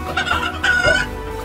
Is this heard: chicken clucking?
yes